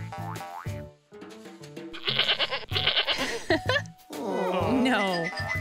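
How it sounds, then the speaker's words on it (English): A goat bleats several times in a children's learning show, short wavering calls mixed with playful sound effects and talk. "This is a goat."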